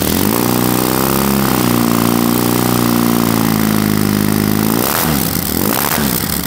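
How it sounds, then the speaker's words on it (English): A BMW R80GS motorcycle engine runs loud and close with a steady low throbbing note, then revs and clatters near the end. "We're going to start it up in a second, and we're going to hear it go, like all the bikes there."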